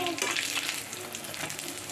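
Battered eggplant fritters (beguni) fry in medium-hot oil with a steady, moderately quiet bubbling sizzle and a few faint clinks, with no talking.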